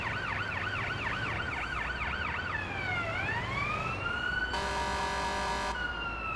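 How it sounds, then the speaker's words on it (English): Fire engine siren in the paramedic simulator game Ambulance Life, first a rapid warbling wail, then a swooping tone, then a steady blaring horn blast, loud and continuous with no talking. "Oh, that's fire engine like, isn't it?"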